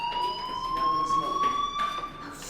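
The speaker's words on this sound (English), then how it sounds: "Hey, do you hear that fire alarm?" A steady electronic fire alarm tone rings continuously inside the video game Life is Strange, held at an even pitch with faint overtones above it, alone and without a break.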